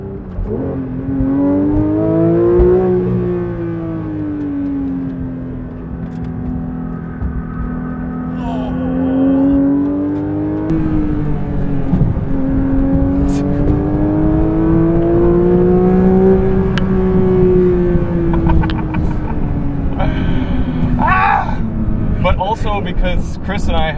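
A 2022 Porsche 911 GT3 engine drones steadily at high revs, its pitch swelling and dipping as the car slides in oversteer through a long turn, with tire and road noise beneath.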